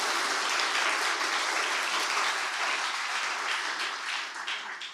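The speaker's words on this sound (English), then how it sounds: "give yourself a round of applause" Sustained applause from a crowd at an evening political event announcing a provincial NDP leadership bid, steady dense clapping filling the whole stretch with no speech over it.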